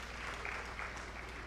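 An audience at a youth empowerment summit for Nigerian Diaspora Day applauds with a steady, fairly faint patter of clapping from a crowd.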